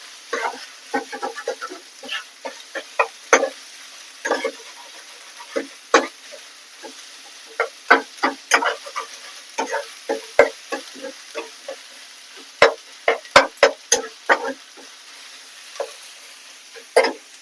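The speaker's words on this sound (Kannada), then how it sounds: "ಸ್ವಲ್ಪ ಡೀಪ್ ಫ್ರೈ ಆಗಲಿ ಈರುಳ್ಳಿ" Onions deep fry in oil for chicken pepper dry, giving irregular sharp crackles and pops over a quiet background, some clustered in quick bursts, close and fairly loud.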